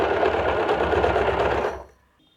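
An electric sewing machine stitches fabric for a kurti, a fast continuous whirring hum that runs steadily close up for almost two seconds, then stops and leaves near silence.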